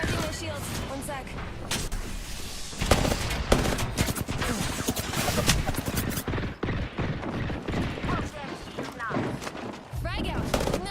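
Dense bursts of automatic gunfire and single shots crackle and thud in a team-based shooter game, coming in rapid volleys with short gaps, while a player talks over the fighting.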